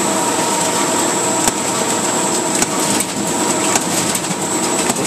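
A Duplo 4000 twin tower collator booklet maker running, air blowers lifting and feeding paper sheets, giving a loud continuous whooshing roar with a high whine and periodic sharp clicks or thumps from the feed mechanism.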